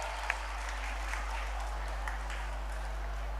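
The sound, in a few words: audience applause for the children's play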